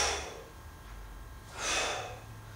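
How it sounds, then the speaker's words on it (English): Two forceful exhalations during an abdominal workout, a short breath out at the start and a longer, louder airy blow about a second and a half later, close to the microphone. "we're just trying to breathe out on the effort"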